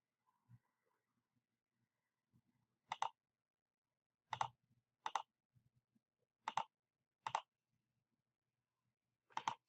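Scattered computer mouse clicks, six or so crisp single taps spaced irregularly in a quiet room, close but soft, with no talking.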